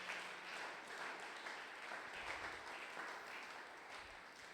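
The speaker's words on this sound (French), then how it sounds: "Est-ce que tu peux encore acclamer pour la gloire de Jésus?" A church congregation at a French-language dedication service applauds and cheers for the glory of Jesus, a steady, fairly faint wash of clapping and voices with no pause.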